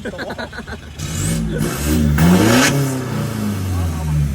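A stock 1.9 engine in a modified four-door pickup revs hard and close, rising in loud surges that swell, cut briefly and climb again, with faint voices underneath at the start.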